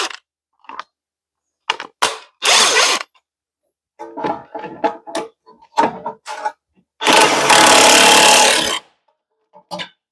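An impact wrench tightens the wheel hub nut on a 2011 Honda Civic during a front wheel bearing replacement: one short burst, then a longer buzzing burst of about two seconds, with scattered metallic clanks and handling noises between them.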